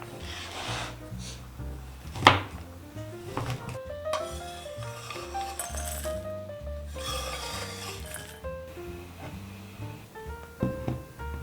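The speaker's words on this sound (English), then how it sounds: "Chop and melt 150 grams of dark chocolate." 150 grams of dark chocolate being chopped with a knife on a board for a ganache topping, steady rubbing, scraping cuts and a sharp knock, close and quiet under soft background music.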